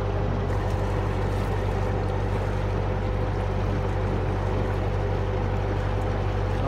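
A canal boat's engine runs steadily as the boat heads toward moorings near a marina, a continuous low droning hum with wind and water noise throughout.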